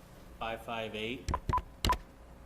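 A telephone keypad dials into a Zoom meeting at a city council session, sending three crisp touch-tones in quick succession right after a short burst of speech.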